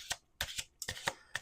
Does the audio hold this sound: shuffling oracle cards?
yes